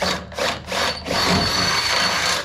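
A power tool drives a bolt during metal repair work on a boat trailer, with three short whirring bursts followed by a longer, steady run up close.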